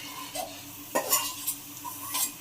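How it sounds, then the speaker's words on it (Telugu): Washed goat tripe hits a hot pan and sizzles steadily while a utensil stirs it, scraping and clinking against the metal in short, irregular strokes, close and fairly quiet with no talk. "దీంట్లో కడిగి పెట్టుకున్న బోటి వేసేద్దాం"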